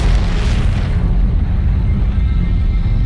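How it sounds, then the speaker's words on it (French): A sound effect stands in for a giant star exploding in the Milky Way: a loud, deep rumbling roar with a brief bright burst at the start, then a sustained low boom rolling on without pause. "La plus grosse explosion qui ait secoué l'univers depuis le Big Bang."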